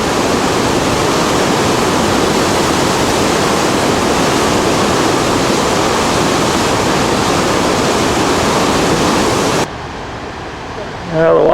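Floodwater roars downstream through Newmarket, New Hampshire, near a sandbagged area, a loud, dense, constant rush that drops away abruptly near the end.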